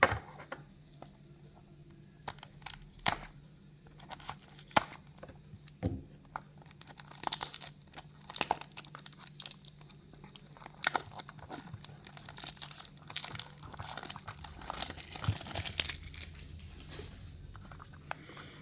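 A Tomica Toyota GR 86 toy car box is opened up close, with irregular bursts of tearing, crinkling packaging and small taps and rustles against a quiet background.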